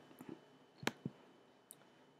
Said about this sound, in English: I'll click next.